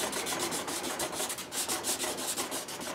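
Emery cloth on a scrub block is rubbed side to side over a bass guitar's finish, making soft, rhythmic scratchy strokes that repeat quickly and steadily at close range.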